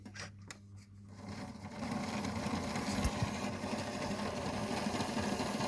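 Model railway locomotive running on a layout, producing a faint, steady mechanical whir that builds after a brief quieter start and continues evenly.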